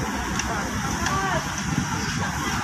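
Burning passenger bus on a Visayas–Manila route, a dense crackling, rushing roar of flames mixed with wind-like noise, steady and close, with people talking over it.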